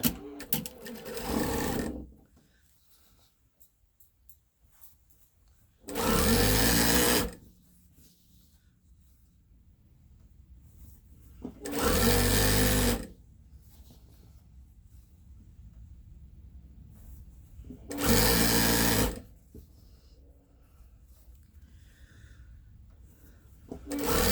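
A sewing machine runs in four separate bursts of about one to two seconds each, stitching a 2-inch border strip around a sailboat baby quilt top, with quiet handling noise in the pauses between runs.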